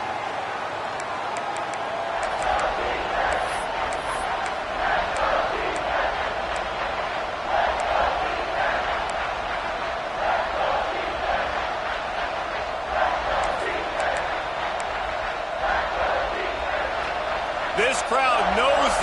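A big stadium crowd roars continuously at a college football game at Auburn, a dense, steady wall of noise over the whole stretch, while an announcer talks over it.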